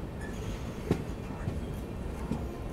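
The Bhubaneswar to Renigunta Humsafar Express heard from inside while running, a continuous low rumble of rolling wheels with a few faint clanks and knocks over the steady drone.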